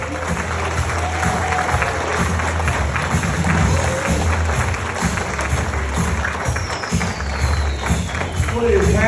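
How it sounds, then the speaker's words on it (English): A comedy club crowd in Tulsa claps and cheers for the host, steady dense applause running throughout while a voice talks over it. "Keep it clapping for your host, John Wall."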